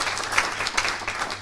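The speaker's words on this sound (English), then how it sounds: "Let's please give them a round of applause." An audience at an organization session applauds two honorees, giving a short burst of steady, moderately loud clapping from many hands.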